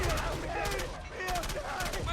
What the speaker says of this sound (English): they're hitting us with AT rifles